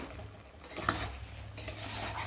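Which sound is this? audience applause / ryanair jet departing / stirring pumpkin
stirring pumpkin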